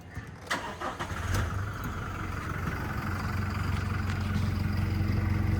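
A 2024 Toyota Hilux fitted with a JTC titanium dual-exit exhaust cranks briefly, catches and settles into a deep, steady idle rumble close by, with no talking over it.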